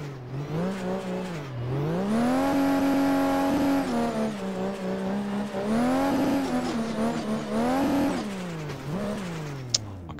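A race car in a driving video game, driven with a sequential shifter, brakes and accelerates through a chicane, its engine tone dropping then climbing through several gear changes with a brief tyre squeal, loud and steady, no voices.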